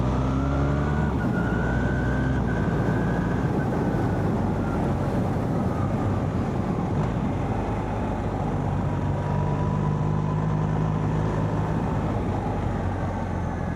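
A 2025 BMW R1300R motorcycle climbs a steep, twisty hill in third gear, its engine droning continuously under heavy wind rush, with pitch rising as it pulls.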